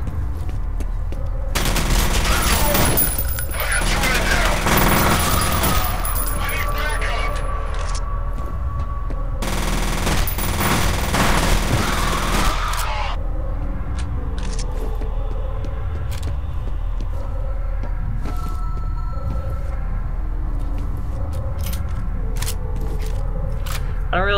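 Shotgun gunfire in the first-person shooter F.E.A.R., with two dense bursts of blasts and broadband roar, each lasting several seconds, giving way to quieter in-game ambience and rumble, all loud and close.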